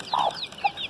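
A medium-sized bantam hen gives two short clucks close by, the first a little longer than the second.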